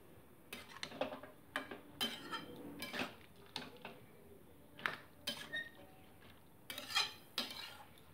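Bottle gourd with salt and turmeric stirred lightly in a pan, giving a string of soft scraping strokes and light utensil clinks against the pan at an irregular pace, fairly quiet and close with no voices.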